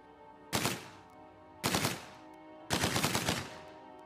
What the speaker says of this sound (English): Oh, I am using the Tommy gun.